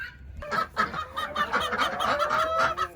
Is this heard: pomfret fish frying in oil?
no